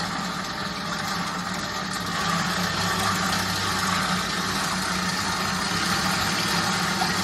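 Stand mixer churning dinner roll dough at low speed, a steady continuous motor hum with a faint rise partway through and no talking.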